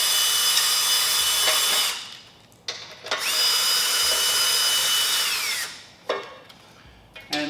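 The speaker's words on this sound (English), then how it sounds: "we're going to take a 1/2 inch socket and remove the dust cover" A power drill fitted with a 1/2 inch socket backs out the four dust-cover bolts on an OnFloor OF9S-L machine, whirring loudly in two long runs broken by short bursts and pauses.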